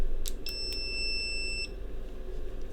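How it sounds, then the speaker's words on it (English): A digital multimeter in continuity beep mode, on a bench for testing a DC-DC power supply, sounds a steady high electronic tone of about a second after short chirps, clear over a low hum. "we'll put it on the beep mode"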